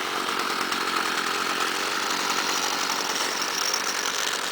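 A Stihl string trimmer's small two-stroke engine, already started, runs at a steady high-pitched buzzing whine, loud and close, with no talking.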